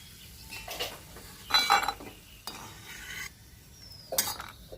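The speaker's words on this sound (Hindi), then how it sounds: "इन्हें हमें धीमी आंच पर लगातार चलाते हुए तलना है।" Dry fruits fry in a pan over low heat while a spoon stirs them, producing faint, intermittent scraping and clinking with a soft sizzle beneath, quiet and close.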